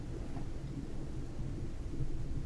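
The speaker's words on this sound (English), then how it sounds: "We're getting rained on! Oh, big storm." Steady rain with low rumbling thunder in a horse-riding video game storm, a constant dense wash of downpour that swells slightly near the end, with no talking.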